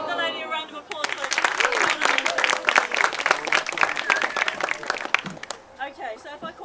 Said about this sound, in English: Give the lady a round of applause, please